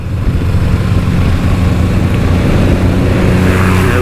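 A 2023 Honda CB500X with a parallel-twin engine accelerates hard while overtaking, giving a loud, steady engine drone mixed with rushing wind that holds for the whole stretch without a break.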